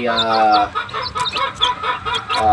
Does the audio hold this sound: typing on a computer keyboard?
no